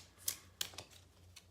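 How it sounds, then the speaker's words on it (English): Archangel Guidance cards from an Angel Tarot deck are shuffled by hand, making a few quiet, sharp riffling snaps spaced irregularly over a brief moment, faint and close with no talk. "So right now I'm shuffling the Archangel Guidance cards from the Angel Tarot deck"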